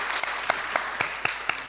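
Students at a school competition between Loreto Limuru and Alliance Boys High clap for a team, a short burst of crowd applause with a few crisp, regularly spaced loud claps standing out near the front.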